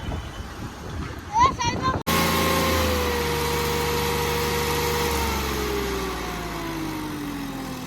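A tractor engine cranks briefly, then catches and settles into a loud, steady running drone close by, at a tractor stone-pulling competition; a voice talks during the start.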